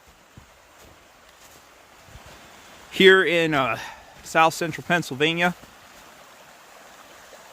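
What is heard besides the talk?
water running in a small creek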